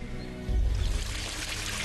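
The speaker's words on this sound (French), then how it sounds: "La cascade sur la formation rocheuse vient de la pluie." Rainwater falling as a waterfall over a rock formation in a Chinese garden, a steady rushing pour with a louder surge, heard under background music.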